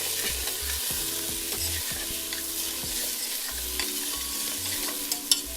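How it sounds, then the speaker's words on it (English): Onions sizzle steadily in a hot pan for a Persian stew while a utensil stirs them, scraping and knocking intermittently against the pan, close and constant with no voices. "we want to give them a little bit of a stir."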